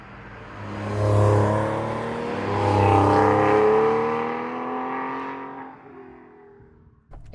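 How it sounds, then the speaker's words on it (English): Porsche 996 Gen 2 Carrera driven on the road, its flat-six engine rising and falling in pitch through gears, a steady in-car drone with two swells of acceleration before easing off and fading near the end. "So let's go out on the road, test this car after the fun drive we've just had in the Gen 1"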